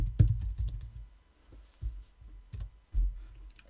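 Typing on a computer keyboard: irregular bursts of close key clicks, a quick cluster at the start then scattered taps, alone without speech.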